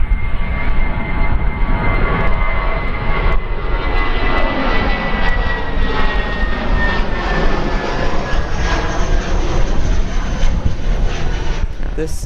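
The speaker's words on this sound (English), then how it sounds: "This is New Zealand Flight 660 from Dunedin off to Auckland." An Air New Zealand Airbus A320, flight 660 out of Dunedin bound for Auckland, roars steadily and loudly throughout, a continuous jet engine rush with a slowly falling whine, while a person talks over it.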